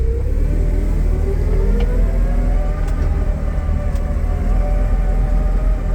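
A Toyota 02-8FGF18 compact forklift drives toward a warehouse at dusk, its engine giving a loud, steady close-up drone with a rising pitch as it moves.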